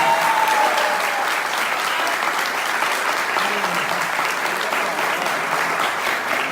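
Sustained, loud applause fills a room at a couples retreat, a dense, steady wash of many hands clapping without a break for several seconds.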